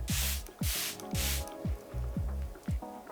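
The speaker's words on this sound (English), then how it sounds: "Little spritz of the Charlotte Tilbury setting spray." Charlotte Tilbury setting spray is spritzed onto a face in three quick, close hissing bursts over a low rhythmic background pulse.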